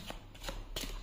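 Tarot cards being shuffled and drawn, a few soft riffling flicks in quick succession, close and quiet with no talking.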